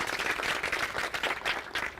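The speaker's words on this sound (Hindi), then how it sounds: "और ये तालियों की गड़गड़ाहट जो है" Applause from a seated audience at a farmers' village discussion on organic farming, dense, steady clapping, loud and close, continuing throughout with no talk.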